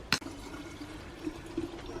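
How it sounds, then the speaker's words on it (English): Drinking water running into a small jerry can inside a motorhome, a steady soft gush of liquid after a brief sharp click at the start, close and continuous. "Sue's got this little jerry can thing that she's filling up"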